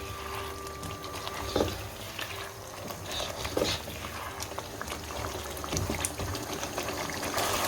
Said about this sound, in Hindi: तो अच्छे से मिक्स कर लेंगे और हाई फ्लेम पे हम इसकी भुनाई करेंगे।